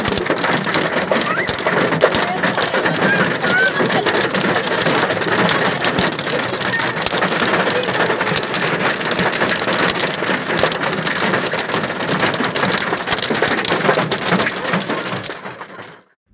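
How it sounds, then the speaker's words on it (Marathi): A heavy afternoon hailstorm with unseasonal rain in Warud, Vidarbha, pelting hard and steady as a loud, dense roar of hailstones and raindrops hitting surfaces, unbroken for about fifteen seconds before cutting off. "तब्बल 20 मिनिटे गारपीट झाली।"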